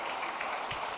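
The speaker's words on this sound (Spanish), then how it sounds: "Ahora sí, un aplauso." A church congregation claps together during a Spanish-language sermon, a short, close burst of dense applause with no speech over it.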